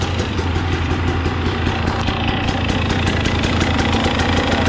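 A KTM, Husqvarna or GAS GAS TPI two-stroke motorcycle engine idles while warming up, a loud, steady, close buzzing drone with a fast regular pulse and no change in revs.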